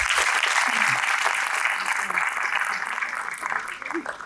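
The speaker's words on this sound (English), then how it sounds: "Could we cheer them on a little bit more," An audience at a NIFT Kangra convocation ceremony applauds in steady, even clapping that fades slightly toward the end, with faint voices underneath.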